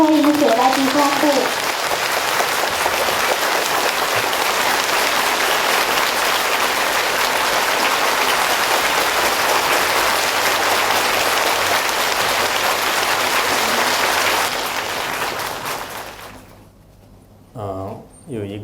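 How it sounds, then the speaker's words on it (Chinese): A large audience at a Buddhist teaching event in Hong Kong applauds warmly to welcome a Khenpo, sustained clapping that fills the room for about fifteen seconds before fading out, followed by brief speech. "现在请大家起立，让我们以热烈的掌声欢迎"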